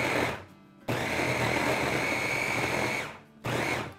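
A kitchen blender whirring through mango for ice cream, a steady loud motor drone that stops briefly, restarts and cuts out again near the end, with no talking.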